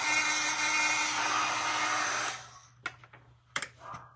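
A hair dryer blows steadily at close range to dry craft beads, then switches off at about two seconds, leaving a few light knocks and clatters.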